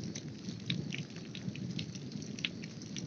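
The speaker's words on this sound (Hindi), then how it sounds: "इतनी ज़ोरदार बारिश हुई है अभी अभी" Steady, heavy rain hisses continuously, with scattered drops pattering on surfaces nearby.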